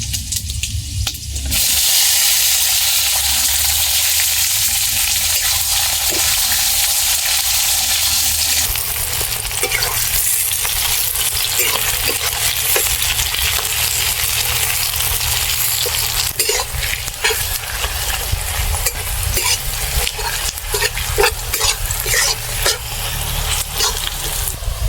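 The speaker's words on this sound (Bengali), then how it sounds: "পেঁয়াজ ভাজা হয়ে গেছে" Sliced onions frying in hot oil with whole cumin seeds, whole garam masala and whole garlic cloves for a village-style chicken curry, giving a loud, steady sizzle with occasional stirring scrapes and no talk.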